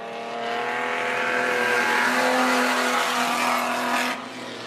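Outlaw sedan race cars roar through the final turns at Macs Speedway during a night championship meeting, a loud sustained engine drone with shifting pitch that rises and then drops away near the end.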